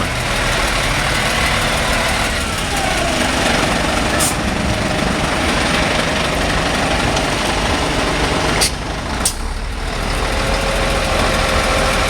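An old square-nosed Scania 112 truck idles close by at a Lopik truck convoy event in Holland, a steady loud engine drone running throughout with a few brief sharp clicks, no talking.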